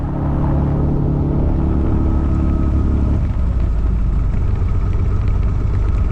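Piper Turbo Arrow IV aircraft engine running steadily during a ground test run, a loud continuous droning rumble that holds constant throughout with no talk.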